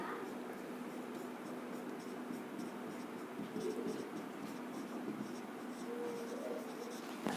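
Marker or chalk writing on a board during a math lesson on the distance formula, a steady scratchy stroking that runs throughout at moderate level.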